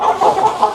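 A chicken of the breed called American local clucks up close at a goat farm in the USA. It gives a short run of quick clucks with no talk.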